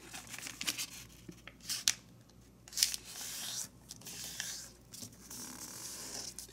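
Origami paper is folded, an edge brought to a crease, giving quiet crinkling, rustling and sharp creasing snaps in irregular bursts, close and soft with no talking.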